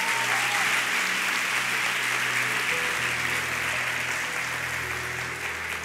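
Dense, sustained applause from a church congregation at a pastor's special service for home groups, loud and continuous for several seconds with a faint low hum beneath.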